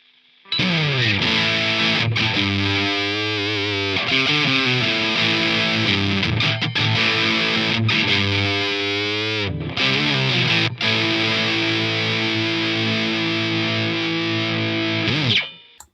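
Electric guitar through a Walrus Audio 385 Mark II overdrive pedal plays sustained chords and bending riffs, heavily overdriven, thick and saturated, with brief pauses between phrases and a long ringing final chord.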